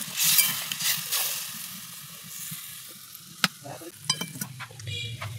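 Potatoes simmer in oil after water goes into the pan, giving a hissing, bubbling sizzle with a few sharp spatula scrapes and clinks near the middle and end, close and fairly loud, with no talking.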